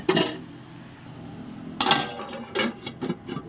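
A lid set onto a cooking pan holding frying kolmi greens (water spinach) gives a short metallic clink, followed by a few lighter clatters and taps of metal cookware.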